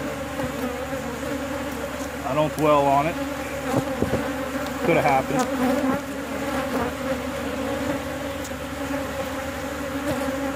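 Honeybees drone steadily around an opened backyard hive during an inspection, a continuous close buzz with someone talking briefly over it.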